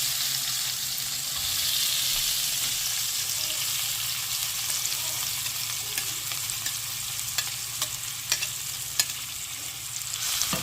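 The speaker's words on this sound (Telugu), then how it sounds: "ఎగ్స్ వేయించిన దాంట్లోనే ఆనియన్స్ కూడా వేసేస్తాను" Onions fry in the same pan just used for eggs, giving a continuous close sizzle, with a few light scrapes and taps of a spoon toward the end.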